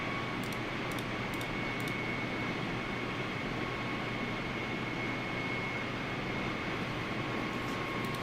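Simulated cockpit of an Airbus A320 aircraft in Microsoft Flight Simulator: a steady, even engine drone with a faint whine, with a few soft ticks early on and no voices.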